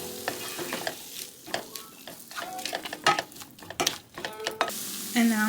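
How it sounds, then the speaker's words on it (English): Chopped onion going into a hot pan and sizzling, with bursts of stirring and scraping over a steady frying hiss, close and fairly loud. "I have my onion that I chopped up. I'm just going to add that into this"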